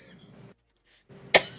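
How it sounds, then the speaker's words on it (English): A short throaty sound and a breath come first, then after a brief silence a single sharp cough bursts out close and loud. "I'm still trying to figure out why I'm coughing"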